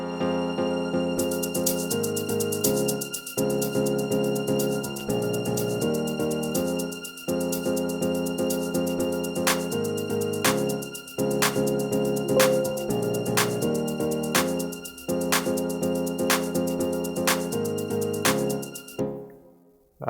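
A music production mix plays with a shaker loop stretched to two bars at reset pitch, set among sustained synth chords and a repeating melodic pattern, steady and loud throughout with rhythmic accents.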